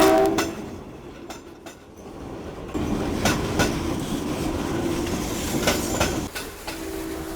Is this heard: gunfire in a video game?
no